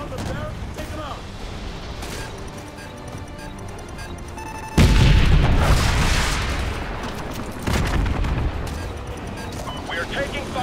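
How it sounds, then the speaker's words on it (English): Javelin rocket launches and gunfire during a Call of Duty: Modern Warfare 2 Remastered evac-site battle, a dense continuous barrage with a heavy boom near the midpoint and another surge later, with voices talking under the fighting. "We got foot soldiers firing javelin rockets on the evac site."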